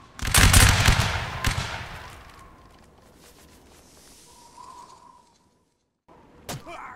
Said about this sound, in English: Guys, wait for the volley.